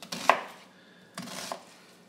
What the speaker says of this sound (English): we're going to just do some nice, easy slices through here